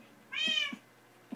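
A cat gives a single clear meow of moderate loudness, slightly drawn out and rising then falling, followed by a few soft low thumps in an otherwise quiet room.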